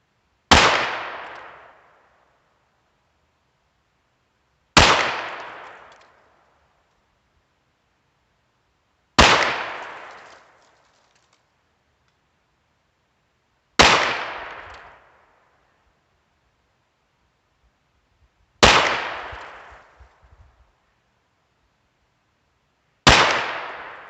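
Six sharp, loud gunshots ring out from a Ruger Wrangler birdshead revolver firing Remington Thunderbolt ammunition, spaced about every four to five seconds, each cracking then fading into silence.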